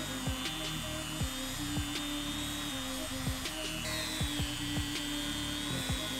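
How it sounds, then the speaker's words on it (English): A Dremel rotary tool fitted with a Scotch-Brite pad hums steadily at close range while polishing a metal motorcycle triple clamp, the pitch wavering slightly as it presses and skims across the surface. "So this is called a Dremel, and it's got a Scotch-Brite attachment on it."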